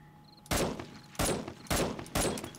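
Gunfire in 7 Days to Die: four sharp, close shots fired in a quick, uneven rhythm about half a second apart, each ending in a short, echoing decay.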